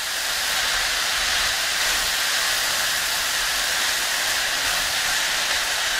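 Leek roasting for a few seconds in a pan while cooking chicken strips, a steady even sizzle and hiss that holds at the same level throughout, close and alone with no talk.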